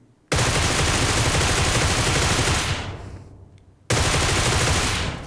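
A Groza rifle with a 3x scope in PUBG Mobile fires in two long sustained automatic bursts, loud and close, with a brief gap between them and an echoing tail after each.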